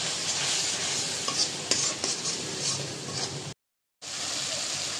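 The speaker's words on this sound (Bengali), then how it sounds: "মশলাটা এখন কষাই নেব।" Ground coriander, chili and turmeric masala is stir-fried in a pan for chicken and potato curry, a dense sizzling hiss with repeated spoon scrapes and clinks, cut by a brief silent gap before the sizzle resumes.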